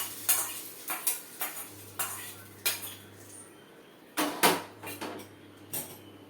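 Metal utensils clink and scrape against a pan in quick, irregular strokes, with a faint sizzle underneath as mustard seeds, urad dal, chillies and curry leaves fry.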